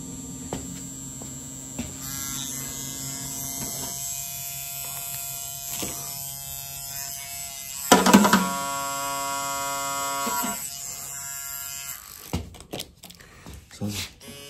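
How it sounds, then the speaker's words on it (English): A Lola Air Pro EZ permanent-makeup tattoo machine runs with a steady, quiet electric hum close by, its whine shifting in pitch as speeds change, with a brief louder buzz partway through and handling clicks at the end. "Now these similar machines, very quiet this one."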